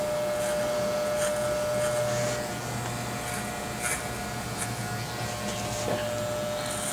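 Electric hair clippers buzz steadily through a close men's cut done comb-over-clipper style, a constant nearby hum with slight shifts in tone as the blades move through the hair.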